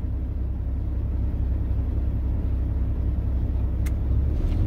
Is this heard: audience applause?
no